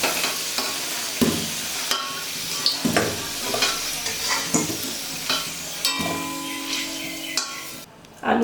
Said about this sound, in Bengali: আলু ভাজা তেলের মধ্যে আমি দিয়ে দিলাম কিছুটা পরিমাণে গোটা জিরে, আর দিয়ে দিলাম গোটা গরম মশলা, শুকনো লঙ্কা আর তেজপাতা।